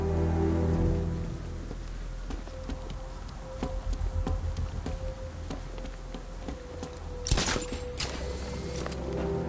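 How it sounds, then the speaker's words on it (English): Steady rain pours down in the video game Batman: Arkham Knight, a dense, even hiss throughout with a constant hum and a few sharper clicks near the end. "What's with all the rain?"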